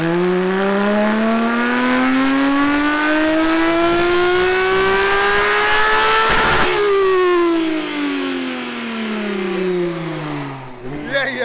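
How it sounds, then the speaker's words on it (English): A Porsche 911 Turbo S on a dyno, its engine climbing steadily in pitch under load to a loud peak, then falling away as it winds down, ending with a brief mechanical clatter. "So yeah, stay tuned and let's get a dyno run."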